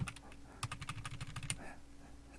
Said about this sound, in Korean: 직접 지금 키보드에서 제가 방향키를 누르면 그죠?